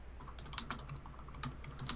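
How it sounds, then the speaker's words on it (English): Rapid clicking of keys on a computer keyboard during an online Town of Salem game late at night, steady irregular taps close to the mic with no voices over them. "I hear typing."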